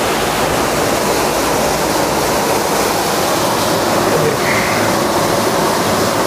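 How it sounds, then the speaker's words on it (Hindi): Water pouring over a canal at an old site in Punjab, Pakistan, a loud, steady broadband rush with no pauses, close by and alone. "ये नहर के ऊपर से पानी आ रहा है"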